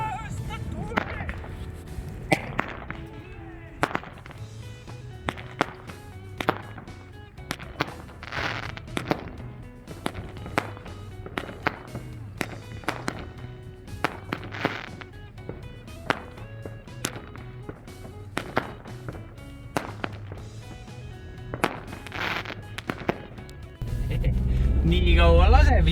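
New Year fireworks rockets launch in a rapid, irregular series of sharp cracks and bangs, some close and loud, others more distant. People talk throughout, and a louder rumble rises near the end.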